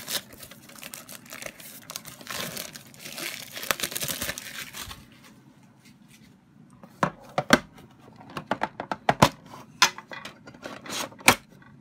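Foil and plastic crinkle and tear as a Pokemon card tin and its booster packs are opened, rustling in bursts up close, then a pause and a run of sharp crackling snaps.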